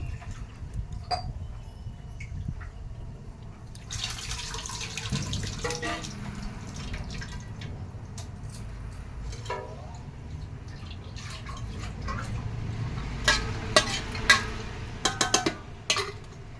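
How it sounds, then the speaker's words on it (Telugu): Water trickling and splashing into a pot of tamarind broth, followed by spoon clinks and stirring, with intermittent drips and light clatter throughout. "ఆ చింతపండు పులుసులోనే కొద్దిగా నీళ్ళు వేసేసి కలిపి పోయొచ్చు"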